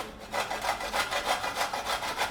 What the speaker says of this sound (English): you can use this and start grating it. So fine coarse powder like will be grated.